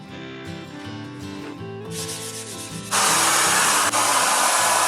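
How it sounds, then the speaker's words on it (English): A loud, steady spray-paint hiss while spraying furniture starts partway through and holds continuously, with a brief break, over background music. "I've finished spraying and these are all looking good"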